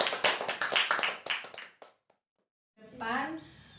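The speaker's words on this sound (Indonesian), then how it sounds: "tepuk tangan untuk Rizky" A classroom of children claps for a classmate in a quick, scattered burst of hand claps that fades out, followed by a brief pause and then a teacher speaking.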